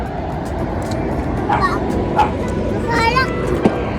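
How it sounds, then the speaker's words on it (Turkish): A few scattered dog barks sound at a distance over steady traffic rumble, with people talking nearby. "Köpek havlıyor."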